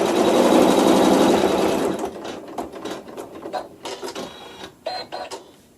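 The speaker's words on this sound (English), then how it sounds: "tack down, stitch, and more bubble quilting." A sewing machine stitching bubble quilting, starting with a loud, continuous whirring run and then breaking into short, uneven bursts of stitching with pauses between, close by.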